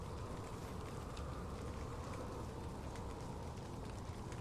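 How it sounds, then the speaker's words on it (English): Steady, dense rainfall from the video game Spring Falls, an even hiss with a faint patter that holds constant throughout without any talking. "And then they introduced the rain. I'm just gonna hold here for a minute. You all can enjoy the wonderful sound effects."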